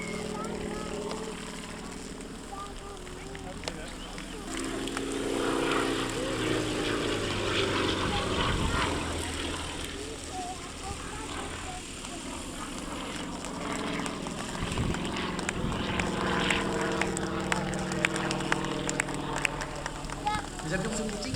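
A Sukhoi Su-26 aerobatic propeller plane climbing at an air meeting, its engine drone rising and shifting in pitch as it pulls upward, moderately distant, with someone talking over it throughout.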